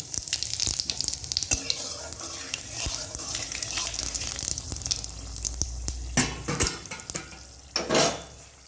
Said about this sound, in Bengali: ওই তেলেই লঙ্কা ফোড়ন দিয়ে দেব গোটা জিরা ফোড়ন দিয়ে দেব